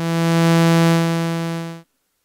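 A boosted triangle wave from a Serge modular wave multiplier sounds as one loud, steady, buzzy tone with a strong low fundamental and dense bright harmonics, holding for nearly two seconds and then cutting off abruptly into silence.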